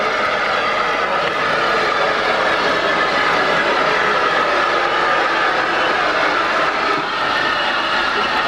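A steam locomotive at a railway junction station, seen during an enthusiast event at the bay platform, makes a loud, steady broadband roar of steam and machinery that holds continuously with no voices.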